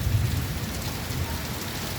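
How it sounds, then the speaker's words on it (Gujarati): Steady heavy rain falls across Jamnagar city, a dense continuous hiss of drops hitting surfaces, close and loud with no voices. "જામનગર શહેરમાં વરસાદ ચાલુ થયો મિત્ર"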